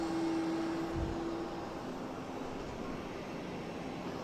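A Delta airliner bound for Atlanta rumbles at Boston Logan Airport, heard from a terminal parking garage as a broad, steady roar with a faint tonal whine fading in the first seconds.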